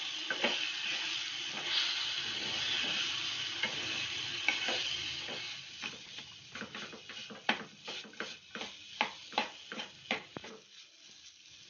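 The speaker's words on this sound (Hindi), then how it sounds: "अब दाल को अच्छे से भून लेंगे।" Moong dal is roasted in a pan with red chilli powder and salt while being stirred; a steady fry-sizzle bed gives way to a run of distinct, rhythmic spoon scrapes and taps, close and moderately loud, with no talking.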